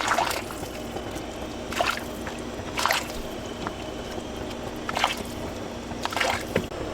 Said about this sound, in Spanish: Lo vamos a colar para que quede limpiecito nuestro pozole.